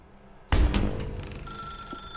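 A telephone rings in The Stanley Parable Ultra Deluxe, one bright bell burst that starts abruptly and keeps ringing steadily, loud and close, with a sustained electronic tone underneath.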